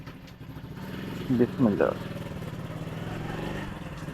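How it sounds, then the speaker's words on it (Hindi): A motorcycle with a broken silencer idles and putters with a rough, uneven low rumble; someone speaks briefly over it partway through. "बाइक हमारी का सलेंसर भी ख़राब है, इसकी वजह से आवाज़ आप सुनाई दे रही होगी आपको"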